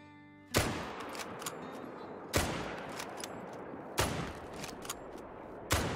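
Gunfire in the hunting video game Call of the Wild: four loud, sharp rifle shots spaced about two seconds apart, each trailing off into a long echoing rumble, with no talk.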